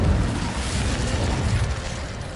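An Incendio fire spell cast in Hogwarts Legacy, heard as a sustained, dense roaring whoosh of flame with a booming low end that stays loud throughout and eases slightly near the end, no voices.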